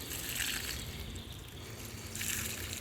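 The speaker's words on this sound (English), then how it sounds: "we're going to water this in good" Water trickling from a can onto mulched garden soil around a plant, a soft splashing pour that swells, eases off briefly, then resumes, close by and fairly quiet.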